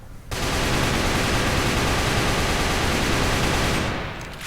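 A JK Happy Snow toy gun set fires in a rapid, continuous burst lasting about four seconds, a loud dense rattling stream that stops abruptly.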